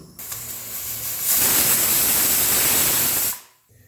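A pressure cooker cooking dalia releases its whistle, a loud, sustained broadband hiss of escaping steam lasting about two seconds before cutting off abruptly.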